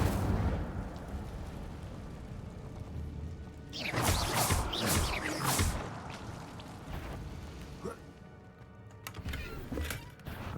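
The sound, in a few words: Incendio fire spell cast in a video game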